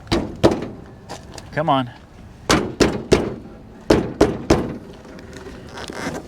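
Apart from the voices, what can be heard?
trying to open the stuck hood of a RAM 2500 truck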